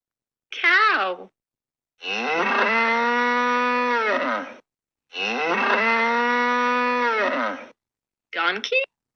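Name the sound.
cow mooing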